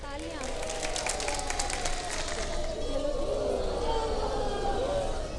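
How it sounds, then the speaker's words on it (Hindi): Studio audience at a Ramadan iftar quiz show applauding steadily and fairly loudly, a dense wash of clapping and crowd noise with voices and cheering mixed underneath. "तालियां बजाएंगी। तालियां।"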